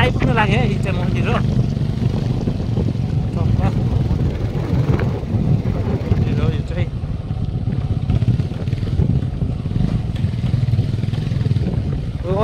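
Motorcycle riding uphill towards a temple, a continuous engine rumble mixed with wind buffeting, with people talking intermittently over the noise.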